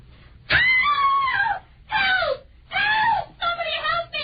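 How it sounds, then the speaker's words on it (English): A woman screams in an old radio drama, several drawn-out wailing cries broken by short pauses, close and loud with no talk over them. "What's she screaming about, mister?"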